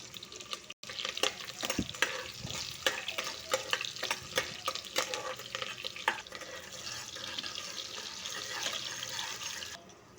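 Onions and chillies fry in a spoonful of ghee for prawn biryani, a continuous sizzle with frequent scraping and stirring clinks from a spoon throughout.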